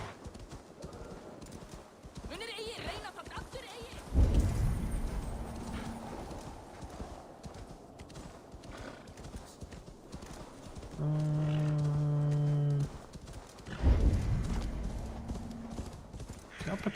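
A horse clip-clops along while being ridden in Assassin's Creed Valhalla, with steady hoof beats, two heavier thuds and a tonal neigh-like whinny midway, over faint game ambience.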